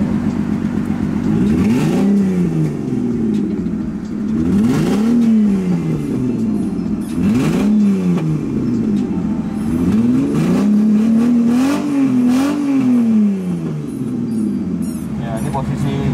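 A Lamborghini SV Roadster replica car's engine revs in repeated rising and falling surges, about five strong pulses, loud and close, with the last rev held longer and a faint voice underneath.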